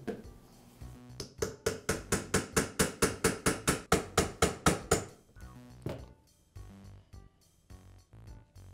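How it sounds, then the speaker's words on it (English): A metal punch is hammered against a Makita polisher armature to tap it out of its bearing, giving a quick run of about fifteen sharp, evenly spaced metallic taps, close by, then a few scattered clanks. "I'll place a punch on it and tap the armature away from the bearing."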